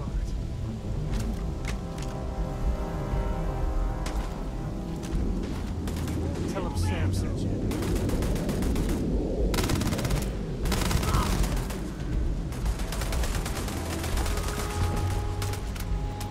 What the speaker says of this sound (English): That turret can like shoot through walls.